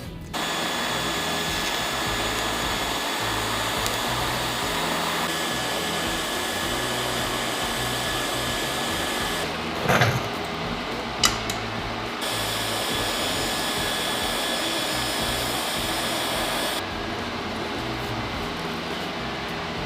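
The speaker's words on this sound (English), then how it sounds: "I got a fan in front of it right now, trying to cool it off some" An electric fan blows air to cool a freshly welded CJ5 steering part in a shop, a loud, steady whooshing drone lasting the whole stretch, broken only by a couple of brief knocks and clatters.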